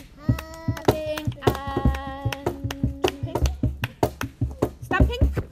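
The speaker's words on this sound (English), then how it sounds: "Should we have clapping? Can you clap like this?" Children at a forest school clap their hands in a steady, repeated rhythm of sharp claps, alongside singing and an adult's voice.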